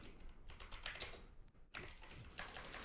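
Rapid clattering keystrokes on a computer keyboard, close and fairly quiet, with a short pause midway before the busy typing resumes.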